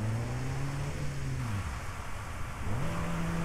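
Car engine in the video game Driv3r revving with a steady drone, dropping away to a lull, then climbing back up loudly; no voices over it.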